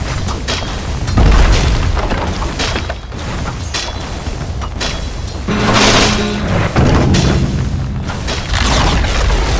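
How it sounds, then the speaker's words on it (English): Radiant top tower in Dota 2 collapsing under attack, a series of loud, heavy booms and crashing bursts with a dense rumble, strongest near the start and again midway. "Radiant's top tower has fallen."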